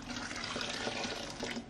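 Cool 77-degree water poured into a home-brew IPA grain mash, a steady close splashing and gurgling stream that runs continuously without any talk.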